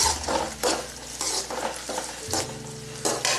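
A quarter kilo of onions sautéing in a pot for chicken biryani, sizzling steadily up close while a spoon repeatedly stirs and scrapes through them, with no talking.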